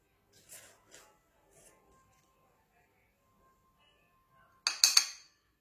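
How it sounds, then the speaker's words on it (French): A spoon taps and scrapes lightly against a small bowl while scooping wheat flour, a few soft clinks early on, then a brief cluster of sharper clinks near the end; quiet speech in between. "Dans un petit bol, mettez des petites cuillères, donc je vais dire une cuillère à soupe de la farine de blé."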